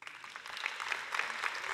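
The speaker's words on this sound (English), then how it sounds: "Round of applause, please, for Tirin." Audience applause at a human rights conference during WorldPride Amsterdam 2026: a steady wash of clapping from many hands that builds slightly and holds throughout, with no speech over it.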